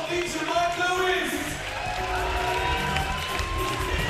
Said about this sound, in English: A big round of applause for teacher Mike Lewis.